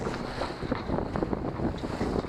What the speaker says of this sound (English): Look at our dinghy moving against the 20-mile-an-hour wind we have.